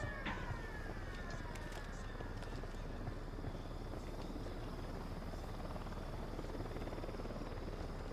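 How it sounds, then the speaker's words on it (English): A helicopter's rotor thrums steadily overhead in the video game Ghost Recon Wildlands, a dense continuous whir that stays constant throughout, fairly faint, with no voices. "Helicopter's just above us."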